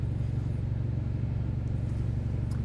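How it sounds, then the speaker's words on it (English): A small 2.0-litre four-cylinder car engine, Nissan- or Toyota-like, idling with a steady low rumble, close and even, with nothing else over it. "I swear it sounds like a Nissan or a Toyota engine"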